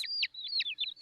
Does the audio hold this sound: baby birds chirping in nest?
yes